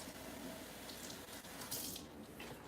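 Tap water running into a kitchen pot to rinse it out while making broccoli soup, a faint, steady splashing hiss with slight gurgles, close by and without voices.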